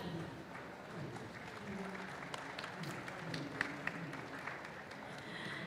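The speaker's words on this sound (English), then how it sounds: "can we get some clap?" Delegates at a technical session of the Indian Roads Congress annual meeting in Bhubaneswar clap faintly in a large hall. A few sharper claps stand out from a soft, sustained patter.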